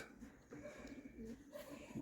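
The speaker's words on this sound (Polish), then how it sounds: "I tutaj przed, na stoliku mamy samiczkę od kolegi Wojciechowskiego." Female pigeon on a table gives soft, faint low coos in a quiet room.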